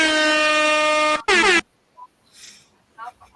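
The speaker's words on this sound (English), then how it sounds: "the air horn product test" A loud, sustained air horn blast with strong harmonic tones, a brief break, then a second short blast, followed by faint voices.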